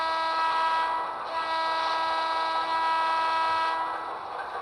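N scale Broadway Limited Imports PRR PA model locomotive running on track with sound, a steady tonal whine and hum with layered harmonic horn-like tones, continuous and fairly loud, no talking.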